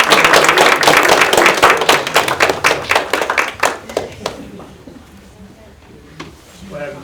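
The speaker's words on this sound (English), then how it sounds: "And it's appropriate to give a round of applause." Applause at a school board of education business meeting: a burst of close, distinct hand claps from a small room audience that thins out and fades to a few scattered claps.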